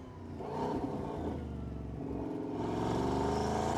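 A Bugatti Bolide, the 1600-horsepower hypercar with a W16 engine, accelerating with a smooth engine drone that builds steadily and grows louder toward the end.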